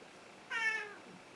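A house cat lets out a single short, rising-then-falling meow, close and clear against a quiet room.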